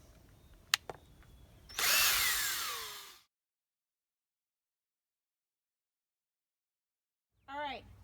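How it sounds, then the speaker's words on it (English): Power drill pre-drilling into wood for a garden gate: a short whirring burst of about a second and a half after a couple of sharp knocks, then silence and a brief voice at the end. "Always pre-drill."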